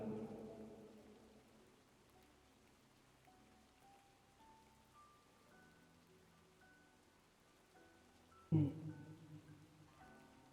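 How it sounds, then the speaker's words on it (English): Gentle rain falls steadily in a video game scene, a soft continuous patter with faint tonal music underneath and a brief louder burst near the end. "I do quite like the rain."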